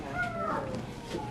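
A feral cat gives a short, wavering meow with a second faint call, heard close over a steady background hum.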